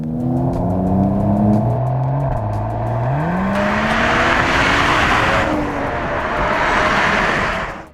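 A Mercedes-AMG E 53 Cabriolet revs hard and climbs through the gears, loud and close, with a deep rising roar and brief shift dips.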